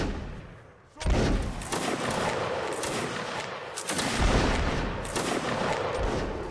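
Musket volleys crack out during a Napoleonic Wars line battle in a video game. A dense burst of overlapping shots comes after a short lull, then another swell of rolling fire, with faint voices underneath.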